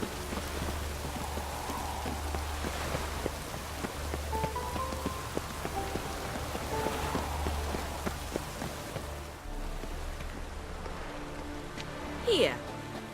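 Rain falls steadily across a town street in the video game Witcher 3, a constant hiss of drops on surfaces with low rumbling underneath, while voices speak over it and hoofbeats clop faintly.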